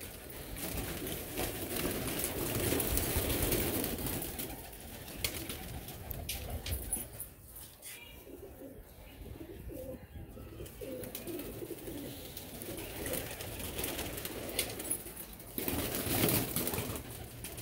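Lakha pigeons from Nankana cooing steadily, with soft overlapping calls close by and a brief quieter patch midway, plus some shuffling and wing movement in the background.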